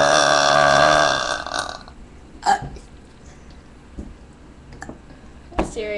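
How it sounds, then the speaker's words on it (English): A loud, close, wet burp opens, followed by a few smaller gulping and clicking mouth sounds in a quiet room. "Burp video. I guess it's burping."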